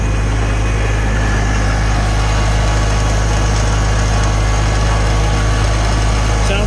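A tractor engine idling after a Seafoam fuel treatment, a loud, steady, close drone with a constant low hum and an even mechanical buzz throughout.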